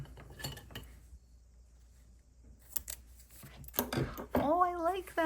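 Scissors cut a planner sticker sheet in a few crisp snips and rustles at close range, broken by short quiet gaps, while someone talks in bursts alongside.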